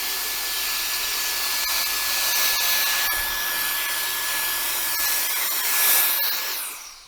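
A DRILLPRO P30 mini turbo air blower running, a loud, steady high-pitched whine and rush of air with small surges, close up and with no talk.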